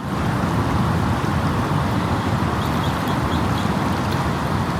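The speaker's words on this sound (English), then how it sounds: "The waves clapping against the rocks." Steady, dense wash of surf breaking continuously against rocks, with a constant low roar and hiss and no clear gaps, close and loud.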